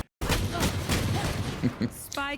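A grenade goes off during a competitive Valorant collegiate playoff match, a loud burst of gunfire and explosive booms filling the moment, followed by bright electronic game tones, all under continuous excited commentary.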